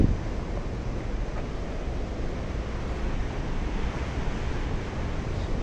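Water rushing through the gates of Tandava Reservoir, a steady, broadband roar that stays loud and unbroken throughout, without voices.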